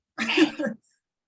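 A single sneeze during a panel discussion indoors, one sharp burst lasting about half a second, fairly close and clear.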